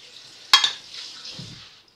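Gratin ingredients get stirred in a pan: one sharp scraping clink followed by a soft sizzling, shuffling stir that fades out, close and fairly quiet.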